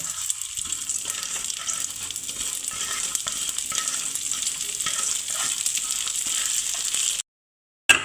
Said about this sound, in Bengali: রান্নাটা আমার সর্ষে তেলে হচ্ছে মুগ ডালটা আমি ভেজে নিচ্ছি